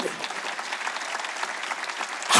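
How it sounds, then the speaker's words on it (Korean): Steady applause from a church congregation fills the space, a dense even wash of clapping that swells louder right at the end. "믿어 박수 치라는 거예요"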